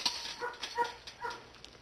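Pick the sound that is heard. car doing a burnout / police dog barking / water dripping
police dog barking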